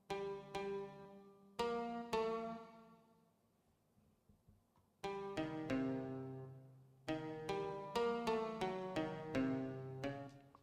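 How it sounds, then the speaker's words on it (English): Zhongruan, a Chinese plucked lute, played in bright twangy notes: a few separate plucks, a ringing pause, then a quicker run of repeated plucked notes, close and clear with no voices. "it's called 中软. It sounds like this."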